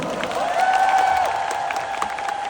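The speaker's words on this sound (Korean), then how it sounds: "박수 한번" Applause from a concert audience at a 2025 concert talk segment, a steady wash of clapping with a sustained tonal hum running through it, moderately loud throughout.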